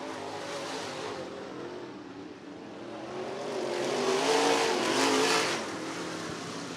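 Late model race cars at Cottage Grove Speedway roar around the oval in a continuous loud engine drone that swells as the pack passes closer, then eases back, with no voices.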